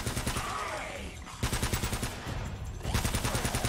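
Rapid automatic gunfire from the video game Uncharted: Drake's Fortune, loud bursts of repeated shots broken by a short pause, then firing resumes in quick rhythmic volleys.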